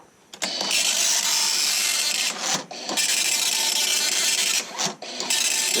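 A 1984 Commodore MPS 801 dot matrix printer prints in test mode, loud buzzing rasps of print-head passes broken by brief pauses as each line ends, close up with no talking.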